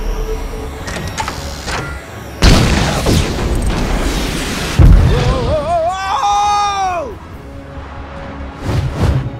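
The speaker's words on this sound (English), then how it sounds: "I'm reading an incoming ship. Watch out! It's about to open fire!" An animated sci-fi attack scene: an incoming ship opens fire, with two heavy blasts followed by a warbling energy whine, all loud and close against a busy background.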